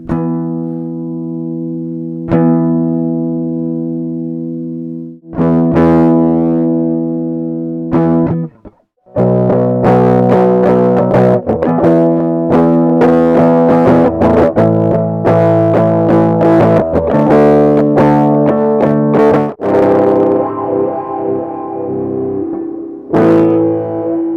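Electric guitar run through a Moog Grandmother synthesizer with distortion and high-pass filtering, playing sustained notes and chords that shift from a clean tone to a thicker, buzzing, effected sound, loud and continuous with one brief break.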